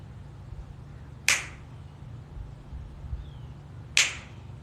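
Two crisp finger snaps, close and clear, about three seconds apart over a quiet room hum, marking the start of a meditation, with no talking.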